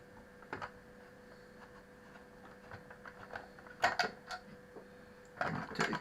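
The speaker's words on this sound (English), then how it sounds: "Let me get a slightly bigger screwdriver on the job." A screwdriver turns a screw in a Trimphone telephone, making faint, close, irregular clicks and small scraping ticks, with a few louder clusters near the end.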